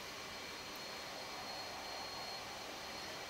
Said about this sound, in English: now full afterburner